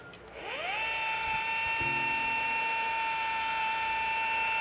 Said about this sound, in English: now at a very low speed, we're going to start polishing the chrome.